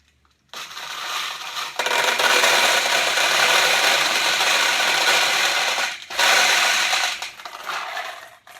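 Pachinko balls pour into a vintage Daiichi pachinko machine in a dense, continuous metallic rattling cascade lasting several seconds, with a short pause before a second burst that tapers off.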